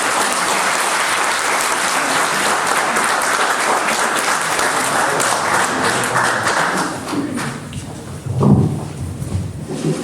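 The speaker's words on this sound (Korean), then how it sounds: "다시 한번 큰 박수 부탁드립니다" An indoor audience claps after a lecture given by a pastor, with sustained, dense, loud applause that thins out toward the end as a few voices murmur.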